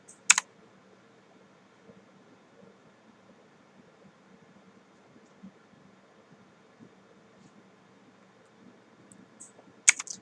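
Two sharp keyboard shortcut key presses, Shift F and F8, struck on a computer keyboard during Cinema 4D dynamics work, one near the start and one at the end, with a quiet fan hum in between.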